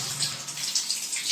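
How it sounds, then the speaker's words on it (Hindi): Fresh water runs steadily from a household tap as a bath is being prepared, a continuous close hiss and splash with no talking. "ताज़ा पानी आ गया है"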